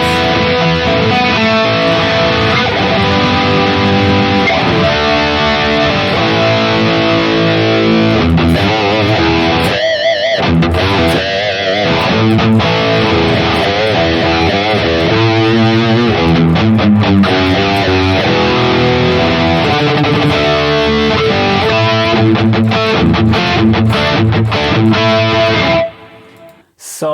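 An electric guitar played through a Harley Benton DNAfx Git Pro multi-effects unit with a crunch tone and chorus, strummed chords and riffs ringing continuously and loud before cutting off abruptly near the end.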